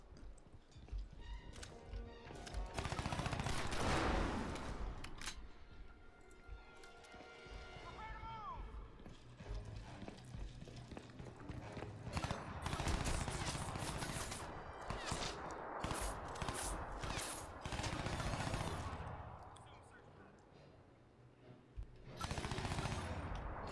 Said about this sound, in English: That's a guy on a roof over there. That's who's shooting me.